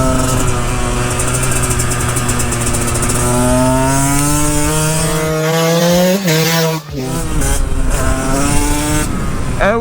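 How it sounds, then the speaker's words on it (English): A 2-stroke 125cc motorcycle ridden hard through corners, its buzzing engine loud and close, pitch climbing through revs, dipping briefly on a shift or throttle-off, then rising again over steady wind noise. "is a 2-stroke Moto as good as a sport bike in corners?"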